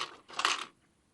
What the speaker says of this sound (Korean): 이제 제대로 한번 인형을 뽑아보도록 하겠습니다. 동전에 넣고